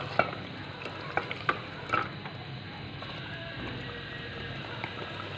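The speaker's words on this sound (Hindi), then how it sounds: "अब हम इसमें शामिल करेंगे दही 2 टेबल स्पून, इसे मिक्स करेंगे" Yogurt being stirred into chicken karahi biryani in a sizzling pot: a constant fry hiss broken by a few sharp spoon clinks and scrapes, close and clear, with no one speaking.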